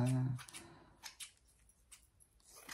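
Scissors snip leftover fabric scraps into small pieces, giving a few quiet, short cuts that stand alone after a brief hum at the start.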